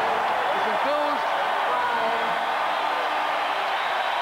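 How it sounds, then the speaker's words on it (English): Spectators at a 1989 UNLV at Oklahoma college basketball game roar in the arena. The cheering is a dense, steady din with brief whoops, and a commentator talks over it. "The crowd now is enthused."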